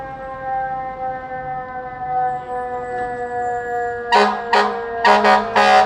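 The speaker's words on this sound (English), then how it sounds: "I want to change the sirens on the emergency vehicles" A loud, steady emergency vehicle siren tone holds for several seconds, then gives way to a series of sharp, blaring horn blasts, in New York City.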